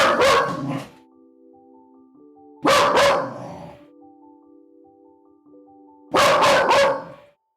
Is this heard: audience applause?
no